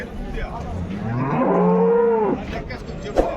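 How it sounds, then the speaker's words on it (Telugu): A single cow moos at a cattle market, a long, drawn-out low call rising and falling over a couple of seconds, fairly close, with faint outdoor background noise. "ఆవు దూడ అయితే ఉన్నాయి చూశారు కదా"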